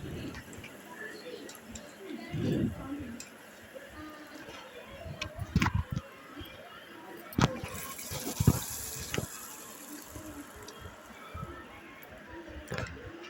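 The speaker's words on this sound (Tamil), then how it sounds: "நம்ம இந்த புளிக்கரைசல் கரைச்சி வச்சுருக்கோம்ல மிளகாத்தூள்லாம் போட்டு அதை வந்து ஊற்றிக்கலாம்" Tamarind water mixed with chili powder is poured into a pan for a spicy rock fish kuzhambu, giving a gushing liquid pour with a few clanks and bumps over background noise.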